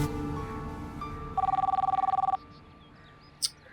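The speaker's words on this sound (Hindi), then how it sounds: "किसका फोन आ गया?" A telephone rings close by with a rapid, pulsing electronic trill lasting about a second over a low background hum, followed by a brief sharp click.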